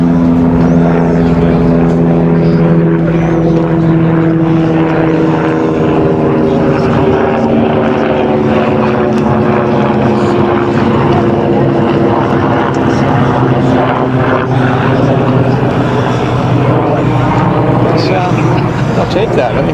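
Propeller engine of a Ryan L-17B Navion model plane on its maiden flight drones continuously overhead, loud and steady with slight pitch shifts as it passes, with voices talking at moments.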